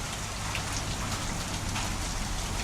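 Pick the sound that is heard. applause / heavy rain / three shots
heavy rain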